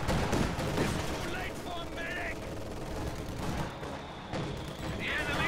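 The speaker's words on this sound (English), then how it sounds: "Taking minor damage from mortar fire, will be forced to retreat soon." Mortar and autocannon fire in a real-time strategy battle game, a dense continuous rattle of rapid shots and thuds with scattered sharper cracks, loud throughout, with a voice talking over the gunfire.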